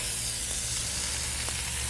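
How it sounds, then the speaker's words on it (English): Hot oil sizzles steadily in a frying pan, a constant dense hiss close by with no talk over it. "So it's got to do that sizzling sound."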